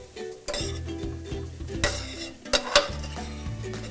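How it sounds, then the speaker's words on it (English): Mushrooms cooking in a pan for beef stroganoff, quiet sizzle with utensil stirring, scraping and a few metallic clinks against the pan, heard close and without talk. "Then I'm adding the mushrooms right now."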